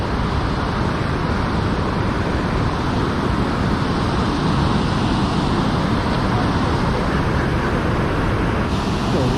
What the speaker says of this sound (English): The waterfalls.